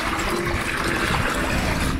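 A young buffalo calf drinks water with a steady, close wash of splashing and lapping liquid that runs continuously throughout.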